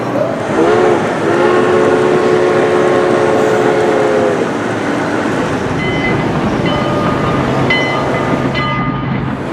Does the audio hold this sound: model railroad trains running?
yes